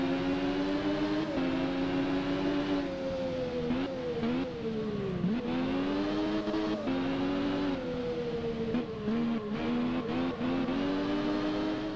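A Triumph Daytona 675 three-cylinder motorcycle engine in a PS4 riding game pulls away from a start, its loud tonal whine climbing through gears with brief dips at each shift, steady and close.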